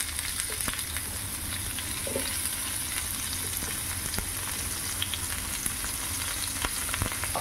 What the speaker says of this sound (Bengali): ফুলকপিগুলো ভাজতে বসিয়ে দিলাম।